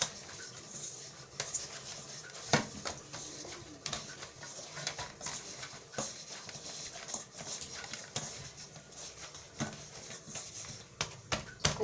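Jowar flour dough is kneaded by hand in a bowl, with soft irregular taps, clicks and rustles as fingers press and turn the mixture, close and fairly quiet.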